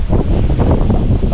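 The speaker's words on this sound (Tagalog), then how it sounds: "Lakas ng hangin, grabe" Strong cold wind buffeting an outdoor microphone by a river, a loud continuous roar with gusty swells throughout and no voices.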